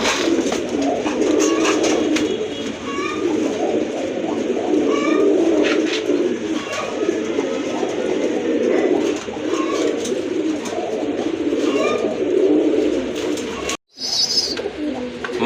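A pair of Raj Golla pigeons coo steadily and repeatedly, close and fairly loud. Bird chatter and chirps from other birds fill the background, and a short dropout comes near the end.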